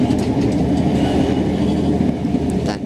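Sydney Trains Waratah electric train passing near East Hills station, a steady close rumble of wheels and carriages running continuously without a break.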